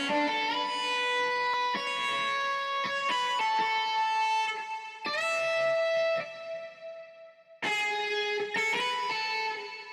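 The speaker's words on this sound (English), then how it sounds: "the most important thing to make electric guitar sound real in FL Studio is basically playing with the pitch" A sampled electric guitar in FL Studio rings out with pitch bends and slides, playing a melodic phrase with short gaps between phrases.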